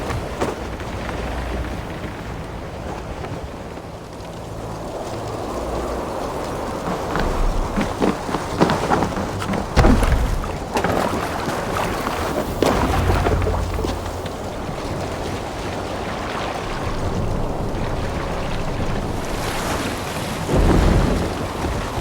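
Stormy sea in a Viking-era video game: a continuous wash of wind and rain with heavy rumbling thunder rolls and gusts rising and falling around a boat, no voices heard.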